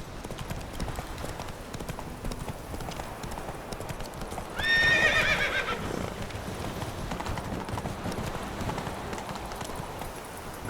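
Hooves of Roach, the horse in The Witcher 3, clip-clop at a fast, steady gallop throughout, with a loud neigh bursting out midway.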